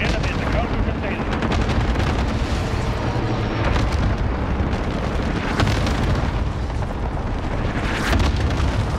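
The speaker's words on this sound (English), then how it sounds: "Allied cluster strike incoming." Cluster strike explosions in Call of Duty Modern Warfare, played in Shoot House, form a dense, continuous roar of booms and bursts that stays loud throughout, with in-game callouts mixed underneath.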